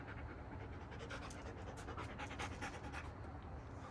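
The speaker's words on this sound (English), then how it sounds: "He's a pretty chill dog." A dog pants steadily in quick, rhythmic breaths, close and fairly quiet, with no talk over it.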